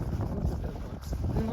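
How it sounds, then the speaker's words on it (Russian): Wind gusting across an open field on a walk, a steady low rumble buffeting the microphone throughout with faint voices underneath. "теперь у нас будет дуть ветер в левый бок"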